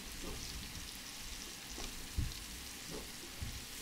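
Pieces of lamb sear in a hot pan with a quiet, steady sizzle and crackle, broken by a couple of soft knocks, with no voices.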